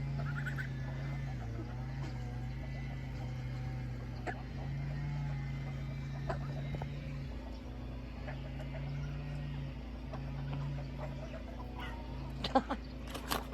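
Chickens cluck and mutter over a steady low hum, with a few sharper calls near the end; moderately faint, no talking.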